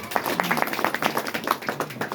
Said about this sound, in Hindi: एक जोरदार ताली लगाएंगे